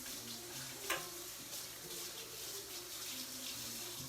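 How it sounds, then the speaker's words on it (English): Water from a tap runs steadily while hands are washed under it, a close, hissing stream with a brief splash near the start and no talking. "Now my hands are gonna need to be washed again."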